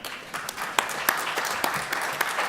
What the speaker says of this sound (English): I think we should pause and give her a round of applause